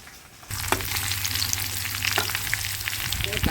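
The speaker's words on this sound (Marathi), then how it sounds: "याला कांद्याला चांगलंच तळू देण" Onions frying in a pan for a vegetable dish of wild flowers, a steady loud sizzle that starts abruptly and continues with crackling bursts, no talk.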